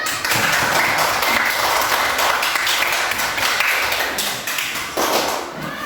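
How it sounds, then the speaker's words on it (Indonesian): A class of schoolchildren in a classroom claps for a few seconds, a dense, fairly loud patter of hands with a brief dip near the end. "Kasih tepuk tangan dulu pada yang tiket."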